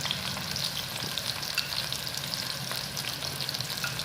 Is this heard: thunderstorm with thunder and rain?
no